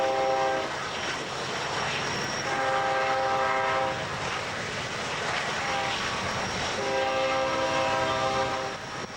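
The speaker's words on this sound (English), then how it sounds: "The train passes through Tunnel 10 beneath us as it pulls its long train around the turns." A long BNSF freight train rumbles steadily past through the Tehachapi Pass, passing through Tunnel 10 below, with a droning engine and grinding wheels, with sustained horn blasts sounding at intervals.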